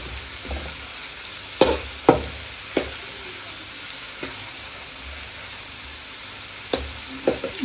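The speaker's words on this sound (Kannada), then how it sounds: "ಆನಿಯನ್ ಫ್ರೈ ಆದ್ಮೇಲೆ ಟೊಮೆಟೊ ಹಾಕುವ." Onion and tomato fry in a pan under a constant soft sizzle, broken by several sharp scrapes and knocks of a spoon stirring, close by and with no talking.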